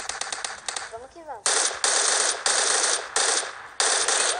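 Automatic gunfire in PUBG Mobile rattles in rapid bursts, separated by short pauses, with a brief electronic warble early on.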